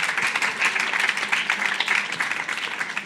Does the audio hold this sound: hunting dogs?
no